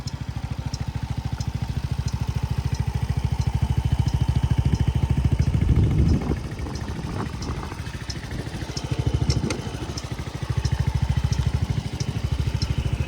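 A Suzuki Address V 125 S scooter engine idles quietly with a steady, even putter, broken midway by a short burst of mechanical clatter before settling back into its rhythm.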